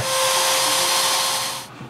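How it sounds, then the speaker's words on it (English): A walnut clock frame is sanded with a power sander, giving a steady close whirring rasp that holds evenly and then cuts off near the end. "while I'm sanding this"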